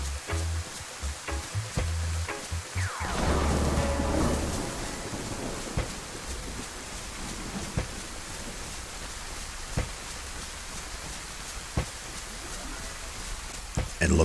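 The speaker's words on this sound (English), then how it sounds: "This rain, it's going to cover a lot of our sound for movement" Steady rain falls in a Livonia video game map, a continuous hiss of drops on surfaces with a brief louder swell early on and scattered sharp drip ticks throughout.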